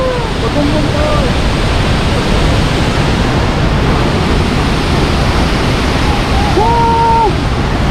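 Bagongbong Falls in Biliran roars as a loud, unbroken rush of falling water, filling every moment, while people shout and talk excitedly over it.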